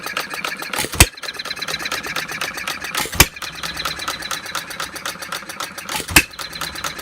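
A 1/2 scale Breisch Olds hit-and-miss gas model engine runs close and loud, a steady mechanical chatter broken by three sharp firing bangs spaced a couple of seconds apart, no talk.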